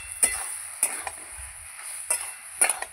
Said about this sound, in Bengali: পালং শাকটা একটু নাড়িয়ে দেব